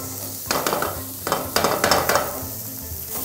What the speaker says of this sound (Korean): 노릇노릇하게 볶을수록 좋습니다